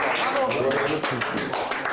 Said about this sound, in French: les applaudissements pour mes perroquets